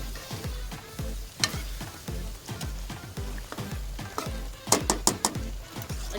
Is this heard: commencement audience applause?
no